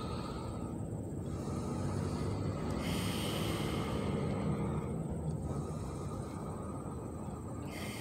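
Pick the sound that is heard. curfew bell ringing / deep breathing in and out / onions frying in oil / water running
deep breathing in and out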